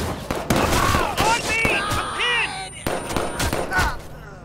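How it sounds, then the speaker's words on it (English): Gunfire from the Watch Dogs 2 video game, a series of sharp shots and bursts popping in irregular clusters amid other game sounds, with bird-like chirps and a background tone. "I hear gunfire. Watch your back."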